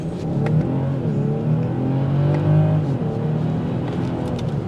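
A 2023 BMW X5 45e plug-in hybrid accelerates with a steady, moderate engine hum that climbs in pitch, heard from inside the cabin without talk.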